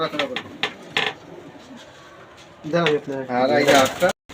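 Racing pigeons in a loft, including a pair sitting on eggs, give soft, repeated throaty coos close by, alongside light clinks and a person talking.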